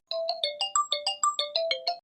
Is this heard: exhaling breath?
no